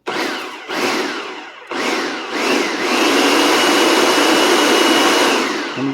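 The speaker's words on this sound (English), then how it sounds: "Now we're just going to blend all this together until it's nice and what they call homogeneous." A kitchen blender whirs through carnivore bread batter, starting with two short bursts before settling into a loud, steady, continuous grinding hum with no talking.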